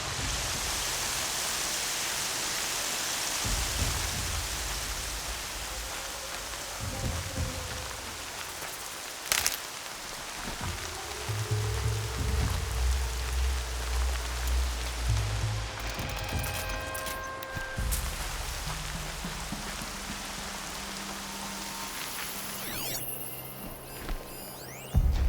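Rain falls steadily, a broad, even hiss filling the whole stretch, with occasional low tones and a brief sharp knock partway through, no voices.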